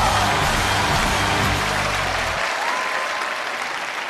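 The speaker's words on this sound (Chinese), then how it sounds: "他们鼓掌鼓那么厉害？" A studio audience at a Chinese televised job-interview show claps in a loud, dense burst that stays steady, fading slightly toward the end, with no voices over it.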